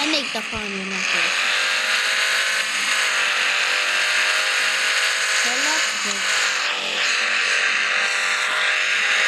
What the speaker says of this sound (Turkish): Oha. Arkadaşlar araba çok hızlandı.